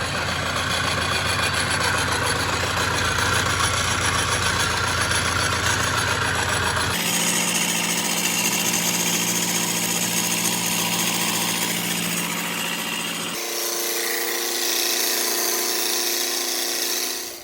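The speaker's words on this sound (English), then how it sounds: "I have now machined this back edge" A metal machining machine runs steadily while cutting the edge of a Denis Foster machinist straight edge, a loud continuous mechanical drone whose tone shifts abruptly twice, with no talking.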